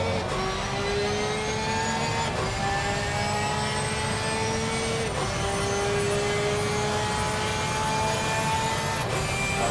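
A Porsche GT3 race car engine at Spa, heard onboard during a lap: a loud, continuous high-revving drone with gear changes producing repeated upward sweeps and brief drops, steady and close throughout.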